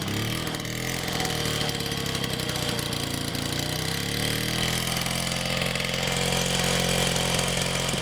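A restored Mobylette AV48 moped engine runs continuously, a loud, close, buzzy two-stroke drone that holds steady and rises slightly toward the end.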